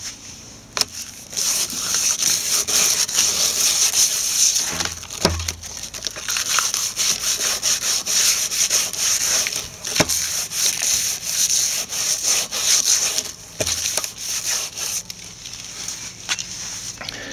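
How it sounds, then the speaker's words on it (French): A tube joint sanded by hand: continuous scratchy rubbing with repeated back-and-forth strokes and a few sharp knocks, close by, with no speech. "Donc je vous montre en quel sens on ponce."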